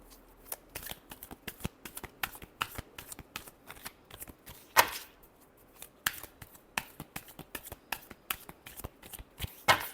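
Tarot cards shuffled by hand in a steady run of crisp riffling bursts and soft slaps, close and clear with no talk, one sharper snap near the middle.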